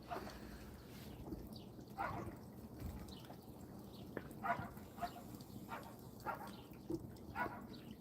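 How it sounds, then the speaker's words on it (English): A dog barking outdoors at night, several short, fairly faint barks spaced irregularly at a distance over a low background rumble. "This dog over here barks all night."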